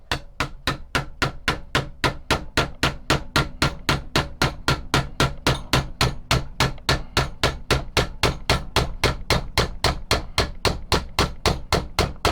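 Old bolts are hammered out of a billhook handle: a long, loud, steady series of about two metal hammer strikes per second, close up, with no talking.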